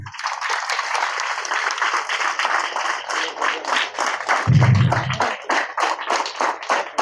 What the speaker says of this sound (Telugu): వాళ్ళందరికీ కూడా క్లాప్స్ కొట్టండి